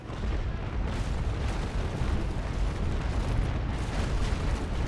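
Naval cannon fire in the Naval Action sailing-ship game, a continuous dense rumble of booming broadside shots blending into one heavy, roaring wall of sound with no speech.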